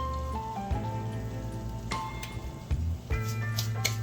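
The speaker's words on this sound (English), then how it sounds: "I put it face down. I want that sear on that side first." Seafood searing in a hot pan for a seafood casserole: a steady, close sizzle with crackles and pops, plus a few brief clinks and tones above it.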